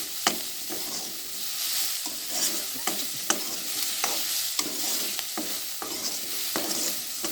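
Soya balls with tomato are sautéed in a pan under a constant bright sizzle, punctuated by sharp, irregular spoon scrapes and taps that are close and clear, with no talking.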